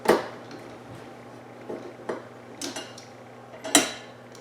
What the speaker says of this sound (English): while we've got the screwdriver back here, we're going to take off these little safety screws and pop those off